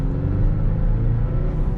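2025 Toyota Tacoma TR with a turbocharged 4-cylinder engine and manual gearbox, heard from inside while driving as a steady, loud low engine rumble and drone.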